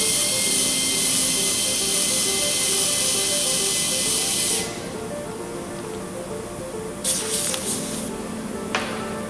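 A high-pitched dental drill bur with a hissing spray finishes a cavity for a metal-free overlay. It runs loud and steady for several seconds, then cuts off, leaving low background noise and a few faint clicks.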